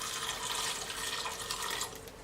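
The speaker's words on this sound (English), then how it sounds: "I'm adding 1 3/4 cups of water." Water pouring into a pot for cranberry sauce, a close, steady splashing gush that runs for a couple of seconds and then tapers off.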